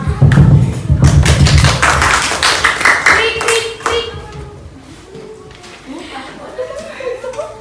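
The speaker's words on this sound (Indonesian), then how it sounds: "Tepuk tangan." A burst of clapping from a classroom group, loud at first and then tapering off into scattered claps, with voices and some laughter mixed in.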